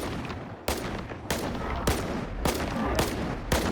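A Saiga D-12 shotgun fires slugs in STALKER 2, six loud, sharp booms at roughly half-second to one-second intervals, each followed by a brief decaying tail over a steady background.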